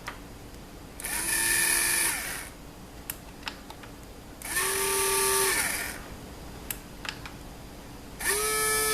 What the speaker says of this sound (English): So right now I'm just going to plug in my little drill here. So now I can drill at my heart's desire.